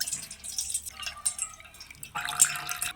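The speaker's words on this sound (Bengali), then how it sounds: "এবার তেঁতুল জলটা ছেঁকে নিচ্ছি" Tamarind water for fuchka is strained, giving soft, close drips and trickles into a vessel, with a fuller splash of liquid near the end and no talking.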